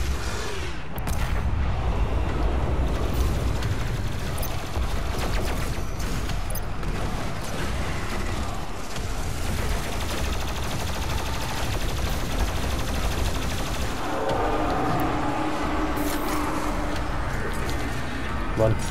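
Heavy, relentless gunfire and explosions from a fast first-person demon-shooting video game, a dense wall of shots and booms running the whole stretch, with a voice talking over the action.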